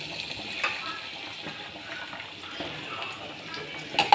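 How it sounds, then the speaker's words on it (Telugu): Onions sizzle softly in a pan as a spoon stirs them, quiet frying with faint scraping clinks, steady and close. "ఒక 2 మినిట్స్ ఉల్లిపాయలు మగ్గే వరకు కలుపుకోవాలి."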